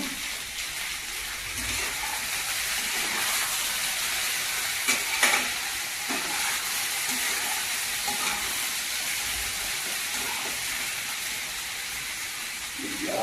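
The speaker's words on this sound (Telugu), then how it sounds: "ఫ్రై కదండి, కొంచెం నూనె పడుతుంది" Broad beans stir-fry in oil in a pan, giving a steady hiss of sizzling broken by occasional scrapes and clinks of stirring, close and continuous.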